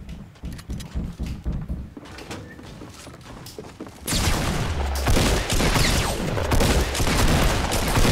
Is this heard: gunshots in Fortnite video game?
yes